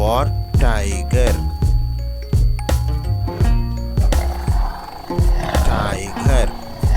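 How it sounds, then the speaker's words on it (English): A tiger roars in short repeated bursts, loud and close, with clinking and other busy sounds layered around it; no one speaks over it. "T for tiger."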